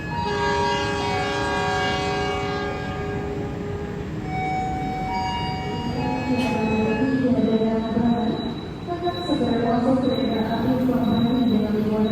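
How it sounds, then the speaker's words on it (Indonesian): Gumarang passenger train pulling away toward Pasar Senen, a loud sustained horn chord sounding over continuous rumbling wheels and engine, rolling steadily with the noise building as the cars pass close by. "Kereta api Gumarang langsung berangkat menuju ke arah Pasar Senen ya"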